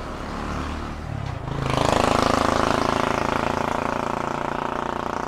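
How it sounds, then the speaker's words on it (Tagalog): Street traffic passes on a walk, with cars and a bus going by: a steady engine rumble swells louder and closer after a moment and holds as a dense, noisy roar. "Medyo madaming kotse dito. Ayan, may bus. Maingay tuloy."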